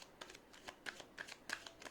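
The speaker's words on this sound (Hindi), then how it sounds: "I'll take 3 cards from here as well." Tarot cards being shuffled from a deck: a quiet, close series of quick papery riffles and flicks arriving in short irregular bursts, with no talking.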